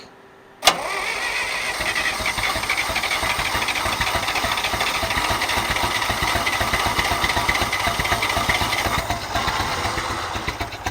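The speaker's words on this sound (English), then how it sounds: "we're gonna open up the throttle just a dab. Open up the choke." A John Deere 1010 tractor engine, recently fitted with a new carburetor and rewired, catches suddenly and runs with the throttle opened slightly, a close, steady chugging rumble that continues without pause.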